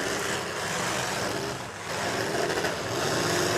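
A demolition derby car's engine idles roughly and revs unevenly amid a noisy arena, with the transmission faltering; a brief dip midway, then a steady, harsh mechanical roar.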